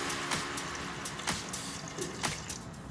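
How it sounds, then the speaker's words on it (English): Water running from a homemade water tower at home, a steady close trickle and splash with a few brighter drip-like spikes recurring every second or so, no talk. "I give you one fully functioning water tower with running water"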